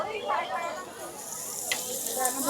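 Surmai fish fries in fresh oil at a seafood stall in Mahim Koliwada fish market, a steady soft sizzle with faint clatter beneath it.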